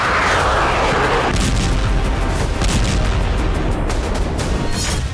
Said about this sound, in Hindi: कीव समेत यूक्रेन के कई इलाके एक बार फिर धमाकों से दहल उठे।